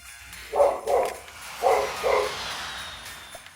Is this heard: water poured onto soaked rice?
no